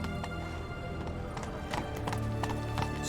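Roach the horse in The Witcher 3 clops steadily along at a walk, with a brief whinny near the end; the hooves are close and moderately loud over a soft ambient bed.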